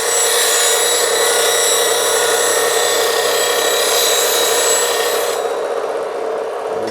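A turning gouge is ground on a 180 grit CBN grinding wheel, a loud, steady high-pitched whine and grinding hiss held close for several seconds before easing slightly near the end.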